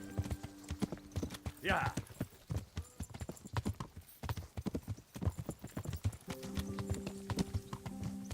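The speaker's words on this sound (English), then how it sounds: "now we start to gallop" Horse hooves in the Kingdom Come: Deliverance video game, a steady clip-clop of galloping horses mixed with a brief whinny, under continuous talking from a nearby voice.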